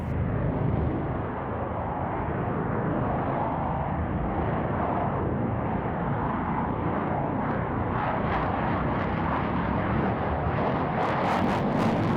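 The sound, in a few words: MiG-29M OVT jet aircraft performing display manoeuvres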